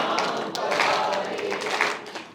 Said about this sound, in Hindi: जब तक सारे ताली नहीं बजाएंगे अगला शुरू नहीं करूं